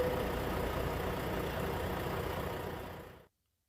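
A Ford F350 pickup in the American Truck Simulator game holds a steady low engine rumble at idle, even and continuous at moderate level, then cuts off abruptly into silence near the end.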